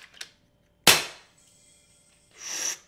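An FX Maverick PCP airgun being dry fired: one sharp, loud crack from the hammer, then a faint lingering hiss of regulated air, and a softer burst of hissing air near the end.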